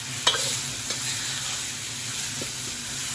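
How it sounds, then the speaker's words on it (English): Meat sizzling steadily in a hot pan for a Korean-style dish, with a few sharp scrapes and stirring knocks of a utensil against the pan over a continuous frying hiss, close and loud, no talking. "As soon as you get the meat in, spread it out, because the sides of the pan are hotter"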